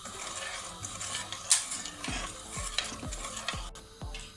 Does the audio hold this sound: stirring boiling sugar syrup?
yes